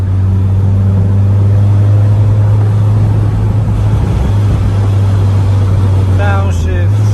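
Mazda MX-5 with a dual-clutch transmission and a standalone tuned engine, droning loud and close at steady revs, then a quick rising rev near the end as a gear is selected manually; a person talks over it.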